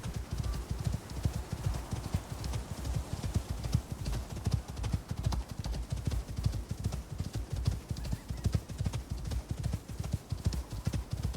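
Steady, rapid clip-clop of horse hooves in the video game Return to Icarus, a continuous close rhythm running the whole time over a low background bed.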